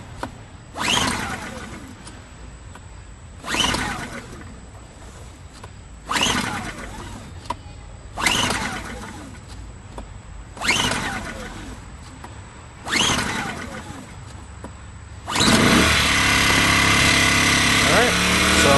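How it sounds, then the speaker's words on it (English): A Ryobi RYi1000 1000-watt inverter generator is pull-started: six sharp recoil-cord pulls in a steady rhythm, each a brief rasping burst, before the engine catches and settles into a continuous close, loud running hum. "Let's see if this will start in a couple of pulls"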